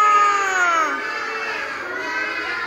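Several children together imitate a cow's moo in a school activity, a loud drawn-out falling group vocal that fades slightly over a few seconds.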